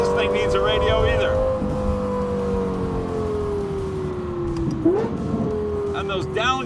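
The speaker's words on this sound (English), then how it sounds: "And those downshifts, is that the most incredible sound you've ever heard?" A Lexus LFA Spyder's engine howls with a high, steady tone that slowly falls, then blips sharply through quick downshifts, loud and close, with someone talking over it.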